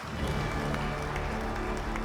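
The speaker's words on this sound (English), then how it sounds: "Can we hear a huge round of applause?" A large audience at an industry award ceremony breaks into a dense, steady round of applause for an award winner, loud sustained clapping filling the whole moment without a break.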